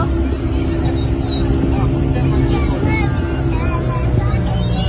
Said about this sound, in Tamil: ஃபர்ஸ்ட் நான் ஸ்லோவான போட்டில் போல் வந்து நான் யூஸ் பண்ணினேன்.